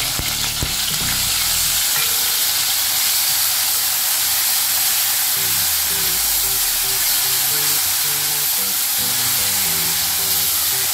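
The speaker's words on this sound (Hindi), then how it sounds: "अब इसमें जो हमने चॉप की हुई प्याज है ना, वो ऐड करके लाइट गोल्डन कर लेंगे।" Chopped onions fry in 3 to 4 tablespoons of oil for a bheja fry masala, giving a loud, constant sizzle and hiss up close while the pan is occasionally stirred.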